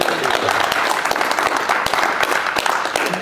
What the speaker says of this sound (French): Et on peut tous s'applaudir encore une fois.